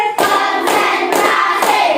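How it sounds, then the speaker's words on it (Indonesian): Hands clap four times in a counted rhythm, sharp and close, as a classroom ice-breaking clapping routine builds up with no talking over it. "Tepuk 1 kali, 2 kali, 3 kali, 4 kali"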